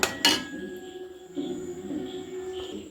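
A spoon clinks and scrapes against a pot while plantain kalan is stirred and mixed; a couple of sharp metallic knocks open the stretch, then softer, steady scraping continues alone.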